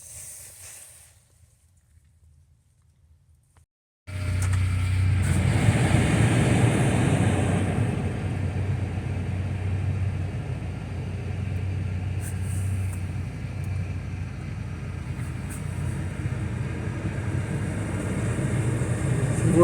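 Blower motor of a 2004 Buick Regal, fitted with a replacement resistor, starting up after a quiet moment and then running as a loud, steady airy whoosh with a low hum that holds for about fifteen seconds.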